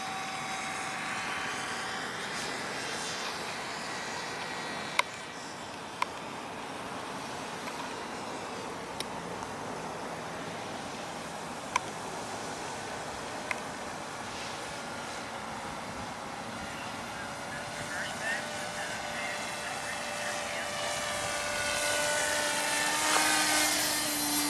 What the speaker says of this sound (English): here's a pass at half throttle